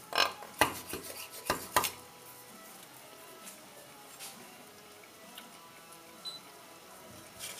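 A knife chops through fennel fronds on a cutting board in a quick burst of sharp, close taps over the first two seconds, then only faint scattered clicks against quiet room noise.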